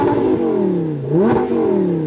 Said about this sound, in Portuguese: Já vou ligar aqui o motor.